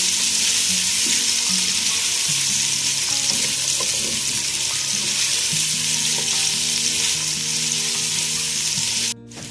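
Chicken and vegetables sizzle and fry steadily in a hot pan for a macaroni dish, a loud, continuous crackling hiss with faint stirring and clinking underneath, ending in a sudden brief cut.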